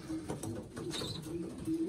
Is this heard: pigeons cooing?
yes